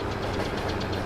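A train rolls past in Farming Simulator 22 with a steady, loud, rumbling drone and a faint rhythmic clatter, and no talking over it.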